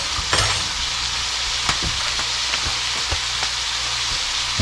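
Fried rice with soy sauce frying in a pan at an off-grid cabin, a steady loud sizzle with occasional stirring clicks and scrapes, and no voices.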